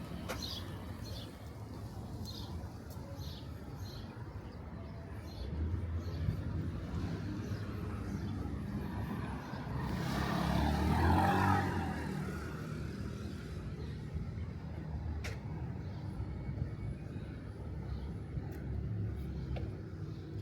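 On a street in Astoria, Queens, a car backing out swells into a nearby engine and tyre rush around the middle, then fades back into outdoor traffic ambience with occasional birds.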